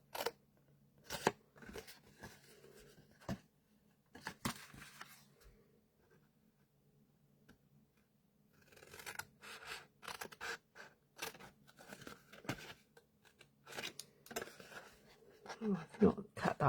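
Scissors snip through card while crafting an explosion box card, giving a series of short, sharp cutting bursts with pauses between them and soft paper rustling, close by, as a person talks intermittently.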